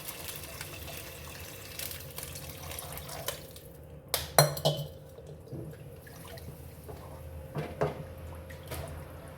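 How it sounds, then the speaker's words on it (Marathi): Water poured into a pan of masala with dried fenugreek leaves for a Saoji-style patodi gravy, heard as a soft liquid pour with a sharper splash and clink midway over faint kitchen background. "पाणी घालून घेणार आहे."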